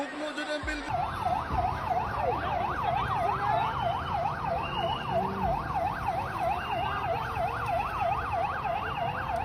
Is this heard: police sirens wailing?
yes